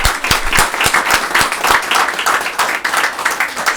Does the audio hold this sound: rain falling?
no